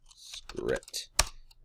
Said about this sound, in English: So try to double click on it so it opens up